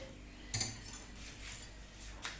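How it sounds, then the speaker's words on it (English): A whisk knocked against the side of a bowl of crumpet batter gives a few quiet clinks, one sharp tap followed by softer ones in a calm kitchen. "So just shake the whisk out on the side."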